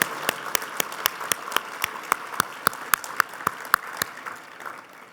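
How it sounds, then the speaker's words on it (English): Applause at a Kentucky entrepreneur Hall of Fame ceremony for the inductees, with sharp individual claps standing out over a soft, sparse crowd clapping that fades toward the end. "Could we have one more round of applause for those Hall of Fame inductees?"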